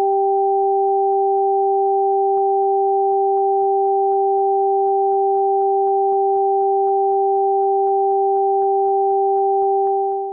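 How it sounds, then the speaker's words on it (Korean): Two pure sine tones an octave apart alternate between ears in an auditory illusion, heard together as a steady, unbroken hum with a faint rapid ticking pulse, continuous for about ten seconds. "소리의 종류는 높은 음과 낮은 음 두 가지이며 각각 한 번씩 번갈아 나오고 있는데요"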